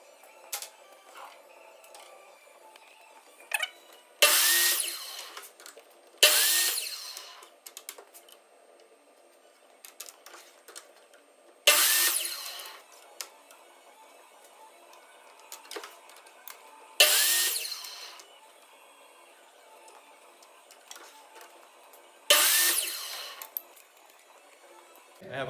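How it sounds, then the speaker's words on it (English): A saw with a miter gauge set to 45 degrees cuts wood pieces for a picture frame in five loud, short bursts spaced several seconds apart, with quiet handling and shuffling sounds in between. "Remember, we need to set the miter gauge on here to 45 degrees. So I'm going to go ahead and cut all 4 of these."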